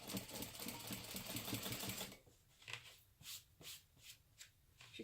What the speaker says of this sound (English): now to top stitch this side.